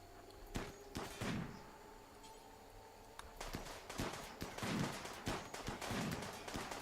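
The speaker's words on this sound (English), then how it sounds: "let's deal with the firing squad here. Open fire" Gunfire from a firing squad in the video game RimWorld, scattered sharp shots and thuds popping irregularly at moderate distance, fairly quiet with brief gaps between volleys.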